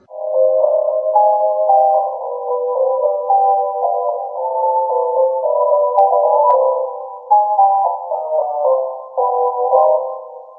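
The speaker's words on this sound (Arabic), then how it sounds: "وده صوت من 500 ل1000." Music squeezed into a thin 500 to 1000 Hz midrange band sounds nasal and telephone-like, a continuous melody with no bass or sparkle.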